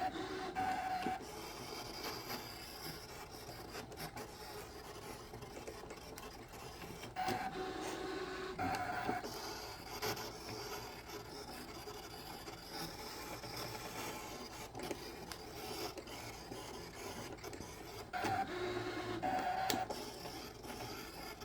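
A Brother ScanNCut machine cuts a design with a continuous mechanical whir and scraping drone, broken by short louder bursts and faint tonal beeps as the carriage moves back and forth, close and steady without talk.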